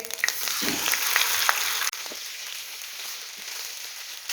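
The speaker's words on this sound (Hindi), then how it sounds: "इस जगह पे हम इसे ऑयल में फ्राई करेंगे" Steady hissing sizzle of 1.5 kg of beef frying in hot oil for beef karahi, loud and close, with a few clinks early on and a brief dip partway through.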